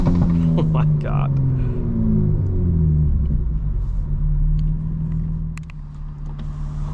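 A 900 hp 2025 BMW M4 Competition xDrive engine rumbling deep and loud from inside the car, its pitch sliding as revs shift, with a person talking over it.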